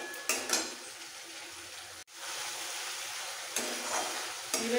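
Spice paste with tomato sautéing in a pan for aloo dum, a steady soft sizzle with a few stirring scrapes and clinks, briefly cut off then resuming.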